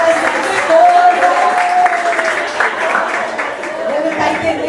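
Audience applause for a father at a parenting-school talk, rising and falling under a speaker's voice that carries over the clapping.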